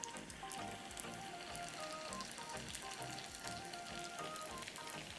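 Crab rangoon deep fries in oil held at 350 degrees, a steady close crackling sizzle with fine popping bubbles, fairly quiet and continuous throughout.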